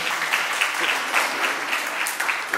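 A room full of people bursts into loud, sustained clapping for a woman named Nidhi, the dense applause continuing evenly with a few voices mixed in.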